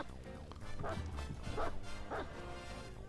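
Dog barks in the Dead by Daylight video game, three or four short yapping bursts spaced about half a second apart over steady game background noise.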